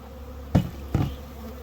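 Honeybees around a hive, recently installed from an early package, give a steady insect hum with two brief knocks and no talk.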